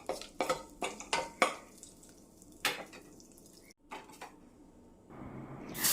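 Bay leaf, cardamom, cinnamon, cloves and peppercorns in melted ghee are stirred in a pan, with a run of close, sharp metallic scrapes and clicks, a short pause, then a soft rising sizzle.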